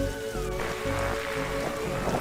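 Steady rain falls throughout a night scene in The Darkside Detective video game, a continuous hiss with no voices over it.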